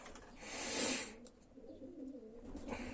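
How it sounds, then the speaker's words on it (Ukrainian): Young pigeons in a pigeon loft coo and call in a soft burst, loudest early on, then trail off into quieter, low murmuring in the enclosed space. "Оце моя друга партія голубят."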